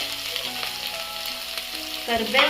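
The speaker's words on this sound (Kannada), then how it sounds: "ಚೆನ್ನಾಗಿ ಫ್ರೈ ಮಾಡಿಕೊಂಡು ಫ್ರೈ ಆದಮೇಲೆ ಮೆಣಸಿನ್ಕಾಯಿ, ಕರಿಬೇವು" Green chilies and curry leaves are fried in a pan for vegetable fried rice, giving a loud, steady sizzle with light stirring scrapes and a brief louder burst near the end.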